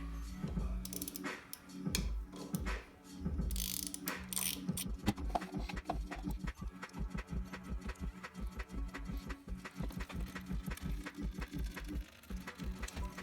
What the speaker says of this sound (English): I'll just put that on this 1/4-inch ratchet and we'll pull that off.